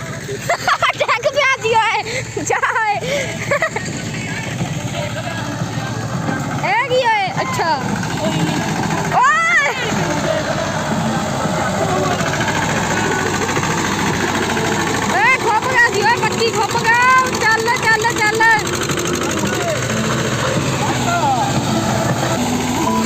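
A farm vehicle engine revs loudly nearby in rising and falling surges over a steady rumble, with voices talking and shouting throughout.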